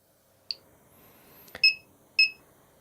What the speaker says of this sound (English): it's beeping at me because it wants its newest firmware flash to it